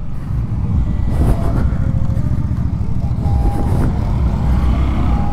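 An FKM Space 150 maxi scooter engine drones steadily under throttle at close range, a rough low rumble that holds for several seconds with a faint wind rush.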